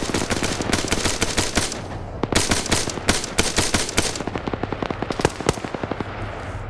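Rapid automatic gunfire in a PvP video game match, dense volleys of sharp cracks in quick bursts, loud and continuous with brief pauses, no talking.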